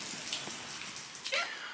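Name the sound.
rain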